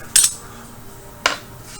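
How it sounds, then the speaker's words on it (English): Two brief metallic clinks of a utensil against a pan as grilled shrimp are added to the sauce, spaced about a second apart, with a faint background hiss. "We're going to go in with our shrimp that I had on the grill."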